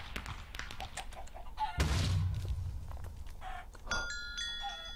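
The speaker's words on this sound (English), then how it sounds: "Stop beating that chicken." A chicken being hit in Hypixel Minecraft clucks in short repeated bursts, mixed with a sharp whooshing hit and game jingles.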